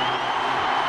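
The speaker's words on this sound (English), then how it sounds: "Some cheer for him, I'm sure." A crowd cheers and applauds at an awards ceremony for a Kerry Gaelic football player, a steady, dense roar of voices held at an even level throughout without any break.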